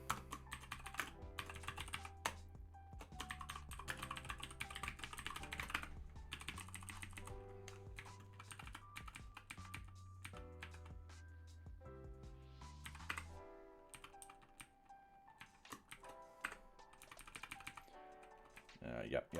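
Rapid typing on a computer keyboard, with close, crisp key clicks in irregular bursts and pauses, sometimes with quiet talk in the background.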